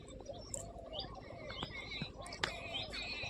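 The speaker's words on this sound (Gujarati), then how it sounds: "ચકલા બહુ પડી છે" Sparrows chirp among ripe millet in a village field, a scatter of faint to moderate tweets and short calls over open outdoor background noise.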